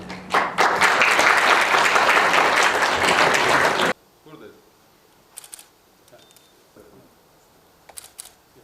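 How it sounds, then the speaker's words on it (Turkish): An audience breaks into loud, dense applause lasting about four seconds before it cuts off abruptly, leaving a quiet room with a few soft clicks and faint talk. "Onun için ben konuşmamı daha bitirmeden sizi alkışlayayım."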